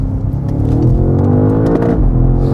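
Modified BMW G90 M5 accelerating hard on the road, a loud, steady, deep engine drone with rising revs heard from inside the cabin, continuous throughout with no talking.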